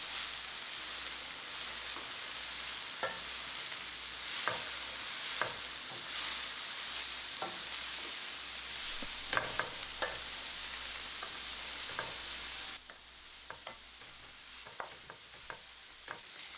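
Broccoli slaw stir-frying for vegan fried rice, a steady close sizzle broken by repeated sharp scrapes and taps of a spatula against the pan at an irregular rhythm.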